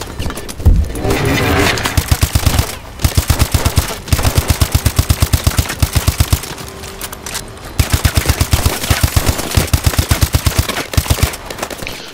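Rapid automatic gunfire from the Call of Duty: Advanced Warfare campaign, loud, sustained bursts of evenly spaced shots separated by brief pauses.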